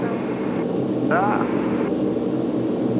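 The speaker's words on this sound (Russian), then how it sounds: "В отличие от винтовых самолетов, здесь нет тряски от винта, поэтому на реактивном намного мягче выполняется полет весь." Inside the cabin of a jet airliner in flight, a steady, smooth roar fills the space, with a low hum under it and a brief higher whine near the middle. There is no propeller beat.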